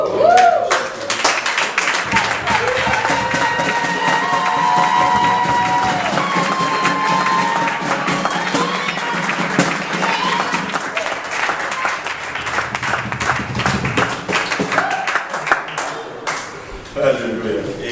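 A church congregation claps and applauds together in steady, sustained applause that runs nearly throughout, with a few voices and cheers mixed in before it thins near the end.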